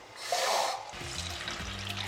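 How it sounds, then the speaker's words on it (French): Water poured from an emptied can into peeled tomato sauce in a pan makes a brief splashing gush, then a low bubbling gurgle as it mixes in. "vous mettez la même quantité d'eau que la conserve"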